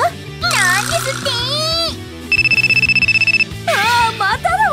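A telephone rings with a steady, rapid electronic trill in the middle, set within a children's skit about a school office. Cartoonish character voices chatter before and after the ring.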